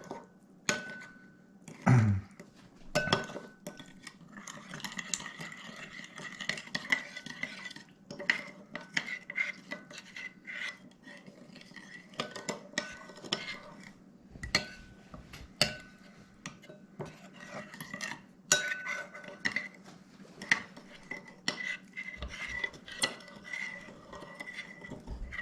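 A chicken and broccoli stir fry is stirred in a pan, with soft irregular scrapes and clinks of a utensil against metal over a faint background sizzle, close and moderately quiet for about 25 seconds.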